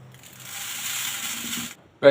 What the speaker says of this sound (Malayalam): നമുക്ക് കുറച്ച് കല്ലുപ്പ് എടുത്തിട്ട് ഇതിലൂടെ ഇടുകയാണേ അതുപോലെ കുറച്ച് അരിയും